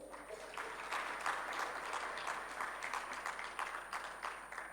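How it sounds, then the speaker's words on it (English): Conference hall applause at a microfinance tech summit greets Rwanda's Minister of ICT and Innovation, a sustained, even wash of many hands clapping at moderate volume. "May we please give her a huge round of applause"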